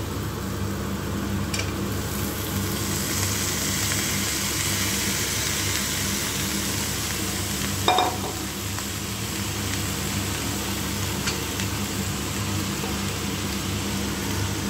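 Pointed gourd (potol) frying in a pan, a steady dense hiss of oil with a low hum underneath and one brief clatter partway through, continuous and even without talk.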